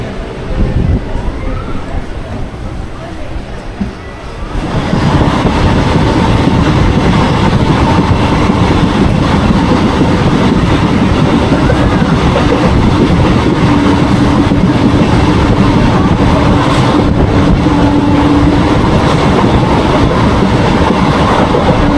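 A Kharagpur–Balasore MEMU local train rumbles steadily along the rails, loud and close, after a few quieter seconds at the start, with a faint whine rising late in the run.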